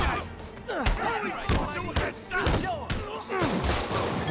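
Gunshots from a street robbery in a Spider-Man video game, a string of sharp thumping shots at irregular intervals, fairly close and loud against a busy city background.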